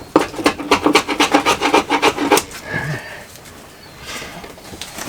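A chisel cuts into the plywood of a blue water sailboat deck during a refit, giving a quick run of about a dozen sharp rasping, scraping strokes up close for two seconds, then a quieter scuffing tail.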